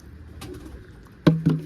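Quiet room tone gives way to two short, close pigeon coos near the end, a soft throaty burst followed quickly by another, at a village pigeon-flying contest in Dhianpura.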